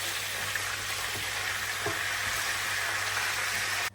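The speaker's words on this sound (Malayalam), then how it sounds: "ഈ മുളകും ഈ കറിവേപ്പിലയും നമുക്കൊന്ന് ഫ്രൈ ചെയ്തെടുക്കാം" Green chillies and curry leaves sizzle in hot oil while frying for a chicken pickle, giving a steady, bright crackling hiss with no voices. The sound cuts off abruptly at the very end.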